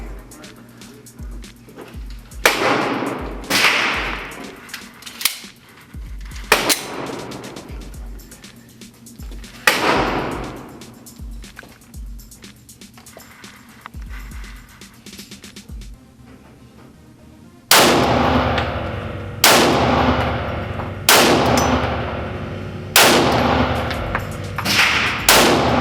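A Glock 19 pistol fires a slow series of sharp, loud gunshots outdoors, each crack spaced a couple of seconds apart with ringing decay, the later shots louder against a steady background.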